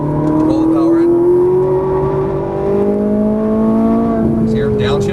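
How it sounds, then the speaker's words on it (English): Ferrari 458 Italia engine accelerating on a race track, a loud, steady rising engine drone that holds throughout, with an instructor's voice talking over it. "Accelerate a little bit, Robin. Roll the power"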